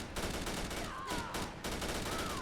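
Infantry battle rifle (T48/FAL) in Fallout 4, fired in quick three-round bursts, loud sharp cracks in rapid clusters over a constant roar of game ambience.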